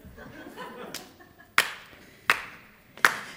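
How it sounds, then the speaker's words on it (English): Three sharp, loud hand claps spaced about three-quarters of a second apart count in a song at an Indigenous art and music program, following softer murmuring and a quieter tap. "So he's going to clap in"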